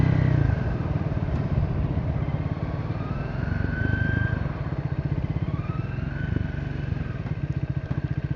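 A Triumph Modern Classics motorcycle engine-brakes while riding, giving a steady rapid throttle-off burble with a faint siren-like whine sliding in pitch above it, close and moderately loud.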